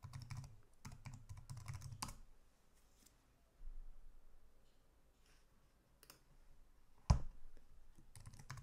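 Quiet computer keyboard typing as code is entered, short bursts of close, crisp key clicks separated by pauses, with one sharper louder tap near the end.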